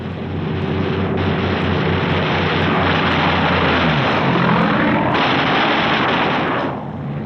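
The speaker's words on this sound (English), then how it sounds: "And now the first Jap snoopers appear, diving head-on into the formations." Wartime newsreel of Japanese fighter planes diving head-on at a formation of B-29 bombers in 1945: a dense, loud roar of aircraft engines mixed with rapid machine-gun fire that continues throughout, with no speech.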